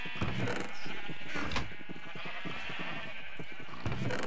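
Sheep bleating in the Minecraft video game, a crowded pen of repeated overlapping bleats close up and fairly loud, filling the stretch with no talk over them.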